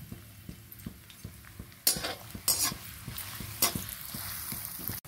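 Chopped onions fry in a pan for cabbage Manchurian, a low steady sizzle punctuated by a few louder bursts of stirring and scraping, close up with a faint regular ticking underneath.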